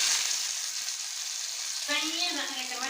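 Steady hissing sizzle of hot oil tempering being poured into peanut chutney, with a voice briefly speaking Tamil over the crackle toward the end.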